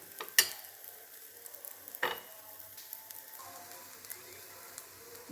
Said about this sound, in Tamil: மைதா மாவு கொஞ்சம் பொறுமையாக திருப்பி திருப்பி சுட்டு எடுக்கணும்